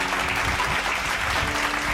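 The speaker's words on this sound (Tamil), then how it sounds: "கைத்தட்டுங்க ஒரு தடவை அவருக்கு" Congregation applauding during a Tamil Sunday church service, a steady, loud, even wash of many hands clapping together with a low hum beneath.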